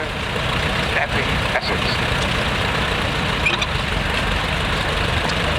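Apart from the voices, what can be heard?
vintage four-wheel drive tractor engine running at steam rally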